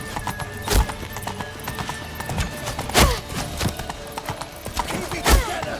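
Hooves clip-clop in a rhythmic trot in The Witcher 3: Wild Hunt, with sharp heavy impacts every couple of seconds and a horse whinnying, set against a busy, clattering background.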